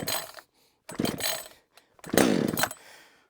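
Chainsaw being pull-started on choke after sitting a week: three rough, loud bursts of engine sputter with short silent gaps between, the last one catching and running briefly before cutting out.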